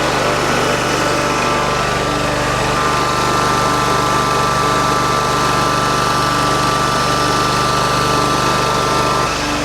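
A John Deere 717A mower engine runs close by at a loud, steady idle with an even buzzing drone, and no voices are heard.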